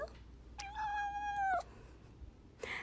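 Charlie, a pet cat, lets out a single drawn-out meow that rises and then holds steady for about a second, close and clear in a quiet room, with no one talking.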